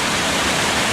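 Water pours over a weir just upstream of an old iron furnace, making a dense, continuous rushing roar, loud and close, steady for the whole second with no voices.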